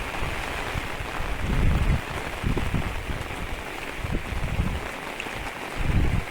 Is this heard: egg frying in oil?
no